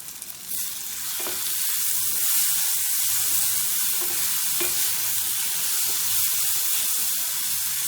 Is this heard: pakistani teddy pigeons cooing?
no